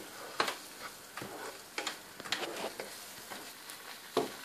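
Semolina roasting in a pan over low heat for orange halwa, giving soft scattered crackles and light scraping ticks from stirring, fairly close and quiet, with no talking.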